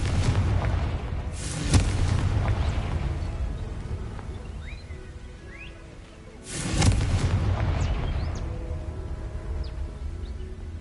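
Two deep booming blasts from the Confringo fire spell in Hogwarts Legacy, each a loud sudden explosion that rumbles away slowly, set against a background of game ambience.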